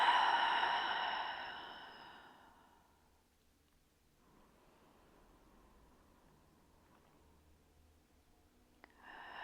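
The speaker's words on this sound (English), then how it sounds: "In restorative, they're called settling in breaths. It's just a long, slow inhale and a long, slow exhale." A long, slow settling-in breath during restorative yoga, a soft drawn-out exhale fading into quiet, then faint gentle breathing close by.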